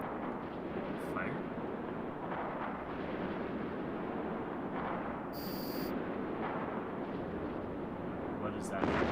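Spaceship weapons firing at a locked target in the space game Eve Online, a continuous rumbling barrage of booms under a low, steady bed of sound, with a player speaking faintly at times.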